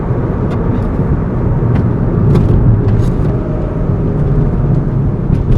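Interior drone of a 2008 Hyundai Tiburon fitted with a new intake, driving in traffic: a steady low engine and road rumble throughout, close and moderately loud, with a few faint ticks and clicks above it and no talking.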